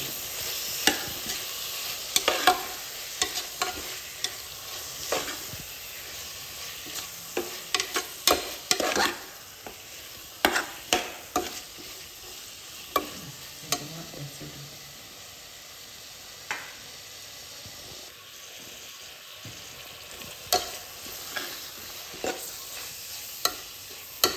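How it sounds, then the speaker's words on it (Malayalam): Slit green chillies being sautéed in a hot pan for chicken kurma, with a continuous sizzle under repeated scraping and stirring strokes of a spoon against the pan, close and fairly loud. "പെട്ടെന്ന് നല്ലോണം വഴറ്റി കൊടുക്കാം."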